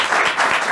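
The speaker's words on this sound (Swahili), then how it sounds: "but they deserve one more round of applause." A short, dense burst of crowd applause rolling on evenly at close range, given as one more round for a team.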